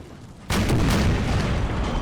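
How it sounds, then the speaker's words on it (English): Cannon fire in Empire Total War, a 13 Colonies campaign battle near Charleston: a sudden deep boom followed by a sustained, rumbling roar of artillery. "We got some cannon ready to go. Let's see if they hit anything besides a tree."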